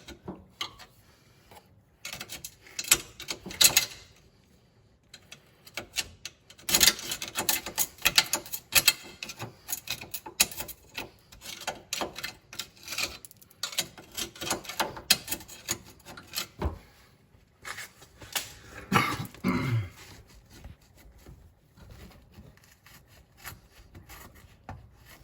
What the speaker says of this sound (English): There's still rocks. Let's get our screwdriver again.